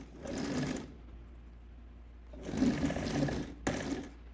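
A sewing machine back-stitches and then runs around a pant cuff on drop-crotch balloon pants, humming in two steady bursts separated by a pause, followed by a short final run.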